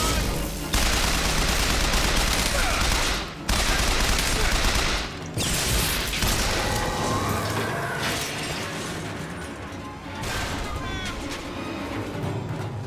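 Gunfire in the Bioshock Infinite game, heard as loud, dense bursts of rapid shots mixed with mechanical clanks and blasts, running almost nonstop through brief pauses.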